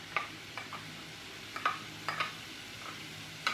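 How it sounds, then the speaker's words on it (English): About two pounds of hamburger with a little chopped onion browning in a frying pan: a faint, steady sizzle broken by a handful of sharp spatula scrapes and stirs. "in my frying pan, I have about 2 pounds of hamburger that I'm going to brown up"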